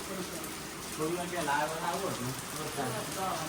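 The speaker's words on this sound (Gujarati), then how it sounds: "વરસાદ જોરદાર ચાલુ થઈ ગયો" Heavy rain pours steadily onto surfaces nearby, a dense hiss running throughout while people talk over it.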